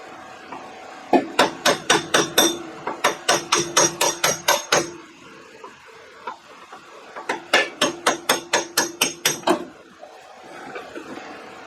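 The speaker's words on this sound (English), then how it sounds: "tap it with a hammer a bunch of times and it came off" Rapid runs of sharp hammer taps on a steering part of a Ford F-150, about a dozen quick strikes per burst, with a pause between two bursts and a few scattered taps.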